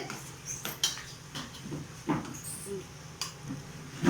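Carrot halwa being stirred in a pan, soft scraping and occasional metal clinks of the spoon against the pan at an uneven pace, close but fairly quiet.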